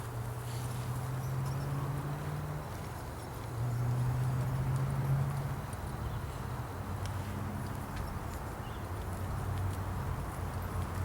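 Horse walking in an arena during an equine evaluation class, hooves giving a soft, steady clip-clop under a low hum of background noise, moderately distant and faint throughout.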